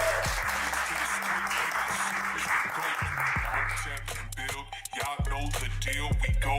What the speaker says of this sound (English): Everybody, clap for King Hotep.